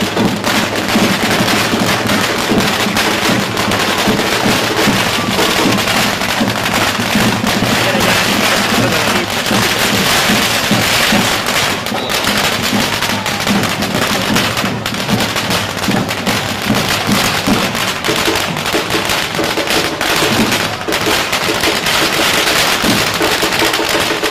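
Dense crackling and popping from a long string of firecrackers goes off nonstop, loud and steady throughout, at a Catalan town festival in Santa Coloma with a drum group accompanying.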